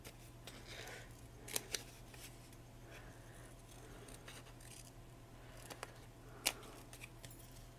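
Scissors cut material while making a colonial toilet-paper dress form, giving a few faint, sharp snips against quiet room noise, with a louder cut near the end.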